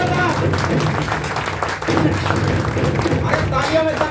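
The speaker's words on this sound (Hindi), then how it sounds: "तालियों में दम दिखा दो" An audience gives continuous, loud applause for Sukhjeet Singh Uppal and Pawandeep Arora at an HHI business event hall, a dense, steady wash of many hands clapping without a break.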